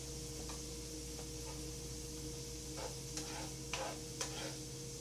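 Eggs, onions and corn frying for fried rice give a soft, continuous sizzle, with a few light taps and scrapes of stirring near the end; quiet, close and without speech.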